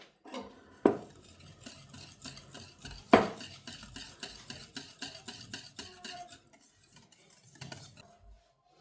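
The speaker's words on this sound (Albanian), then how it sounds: "Tani unë do t'i shtoj sheqerin" Sugar is spooned into a bowl and stirred while making a kadaif cream dessert, with a couple of sharp spoon knocks and then a steady, close rhythmic scraping against the bowl that fades near the end.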